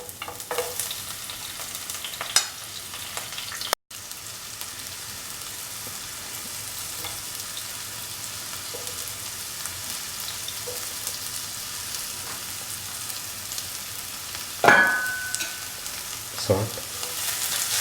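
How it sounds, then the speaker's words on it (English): Big onions sizzle steadily in a hot pan for the whole stretch, a constant close hiss with a few sharp clinks of a spoon against the pan. "Put in the big onions."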